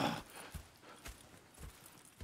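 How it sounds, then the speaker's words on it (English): Horse hooves clip-clop at a slow walk in the Red Dead Redemption 2 video game, four soft, evenly spaced thuds at close range. Otherwise quiet, with no talk. "Go check the horses are ready."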